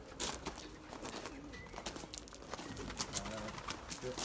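Racing pigeons coo in low, throaty bursts through a busy loft of young birds, with rustling and shuffling around them and a person talking intermittently.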